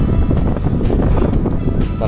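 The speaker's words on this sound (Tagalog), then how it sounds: "Talagang hahampasin ka dito ng hangin." Strong wind blasts across Mt. Banoy's mountain summit, buffeting the microphone in loud, rough gusts that never let up, with a voice partly heard under the roar.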